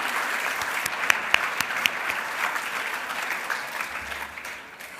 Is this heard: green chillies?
no